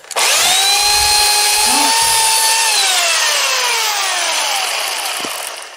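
A chainsaw with a dull, long-unsharpened chain bites into wood, a loud, steady high-pitched whine held for several seconds before tapering off, with no talking over it.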